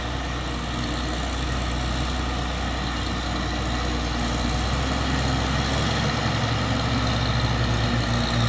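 An orange Fuso 6x2 truck overtakes on the road, its heavy diesel engine a loud, continuous, low rumble that holds steady throughout, with no break in the drone.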